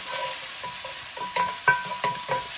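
Aromatics cooking in a hot pan for street-cart-style turkey bowls, a constant close sizzle broken by several sharp spatula scrapes and taps against the pan, with no voices.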